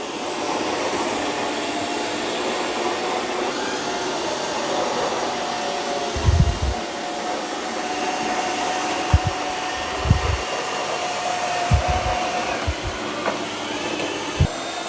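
A Eufy robot vacuum runs over carpet with a continuous loud motor hum close by, broken by several low thumps and knocks in its second half, with nobody speaking.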